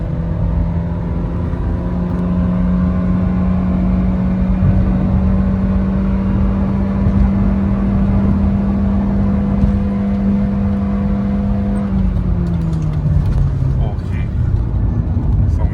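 Honda Airwave car engine, stock with a remap tune, running loud and steady with a low constant drone that shifts downward near the end, like revs settling.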